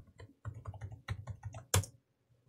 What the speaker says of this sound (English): So I'll press enter and I'll type in the password.